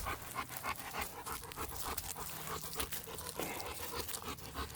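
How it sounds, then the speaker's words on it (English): An American Bully–type dog pants rapidly and steadily, quick breathy huffs repeating close to the ear, fairly quiet overall with no talking. "she is a wonderful dog to use"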